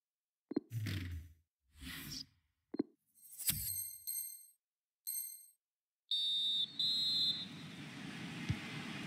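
A short shrill referee whistle sounds in a FIFA 21 video game football match featuring the France national team, followed by two further tonal blasts over loud, steady stadium crowd noise.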